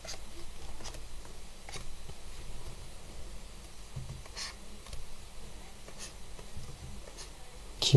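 Hand drawing of effects art for Street Fighter 6: quiet, light scratchy strokes of a drawing tool across a surface, repeating in short irregular bursts over a soft steady background.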